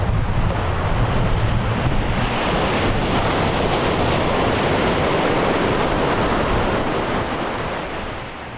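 Ocean surf rolls steadily onto a Malibu beach beside a beachfront campground, a loud, continuous wash of breaking waves with wind buffeting the microphone, easing slightly toward the end.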